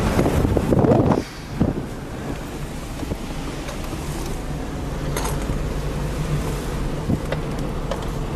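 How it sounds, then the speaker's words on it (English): Wind blowing hard outdoors on an exposed spot, a heavy buffeting rush across the microphone at first, easing into a steady broad roar that continues throughout. "Getting a bit breezy up here now."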